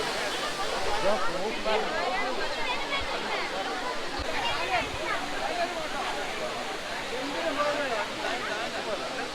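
Rushing water from a mountain waterfall behind a Kodaikanal park forms a constant hiss in the background, partly masked by people chatting and talking nearby for most of the stretch.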